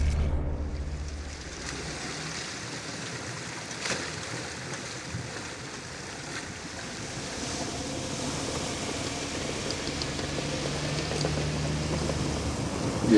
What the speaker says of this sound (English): Then we found the river.